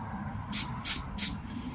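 Spray gun misting brown paint onto a Tamiya FAV model kit: three short, even bursts of hissing spray spaced about a third of a second apart, close up over a quiet room hum.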